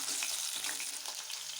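Chopped onion and garlic cloves sauté in a pan with a continuous, close hiss and crackle throughout a brief moment, with no talking.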